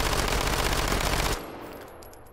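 A Micro Uzi fires full auto in Hot Dogs, Horseshoes and Hand Grenades: one loud, rapid burst of shots for over a second, then it stops abruptly, leaving a short ringing tail.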